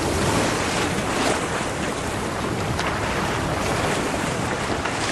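Sea waves and ocean ambience, a dense continuous roar of surf with a windy, broadband wash and no distinct breaks, loud and steady with no voices.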